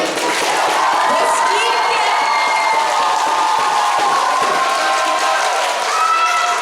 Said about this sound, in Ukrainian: заслуговують на вашу підтримку, а ще й на шалені оплески